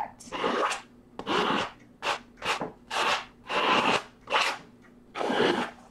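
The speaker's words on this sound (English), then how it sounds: "it'll scrape away paint that's on the canvas" A plastic credit card scrapes across paint on a canvas in about eight separate close strokes, each a dry rasping drag with short pauses between them.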